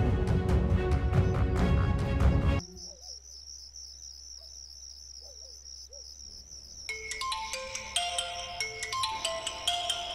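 A mobile phone ringtone rings in a Bengali crime drama scene, a repeating bright electronic melody that follows a short burst of loud music and continues steadily alone, with no one speaking.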